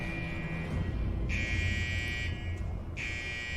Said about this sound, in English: It's the fire alarm in the psych ward.